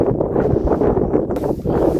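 Strong, gusty wind on the foggy summit of Mount Timbak, buffeting the microphone in loud rumbling bursts with no clear voices.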